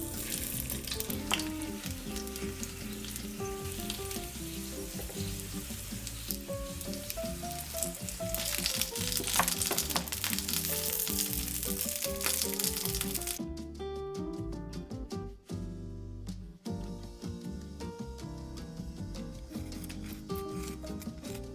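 Korean dumplings from a grocery store pack sizzle and crackle steadily in a frying pan, with occasional scraping and stirring clatter, the hiss dropping briefly before resuming.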